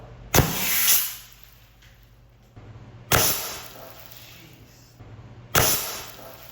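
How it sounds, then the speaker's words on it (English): Rocks fired at a car protected by DIY paint protection film: three sharp, loud impacts, each with a brief rattling tail, spaced a few seconds apart over quiet background. "that's shoot the car with some rocks"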